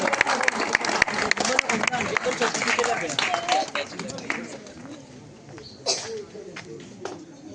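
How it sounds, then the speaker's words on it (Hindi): Applause rings out at a government school event in Kawi, Panipat, welcoming a guest, a dense patter of clapping that thins out while someone speaks over it. "जोरदार तालियों से उनका हार्दिक अभिनंदन और स्वागत।"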